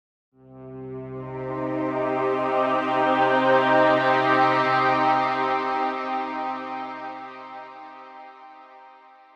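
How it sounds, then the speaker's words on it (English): A sustained synth keyboard tone from the Fusor synthesizer swells in and slowly fades, rich in harmonics, played alone as an arpeggio with no voices. "I'm going to choose a keyboard sound that I can arpeggiate."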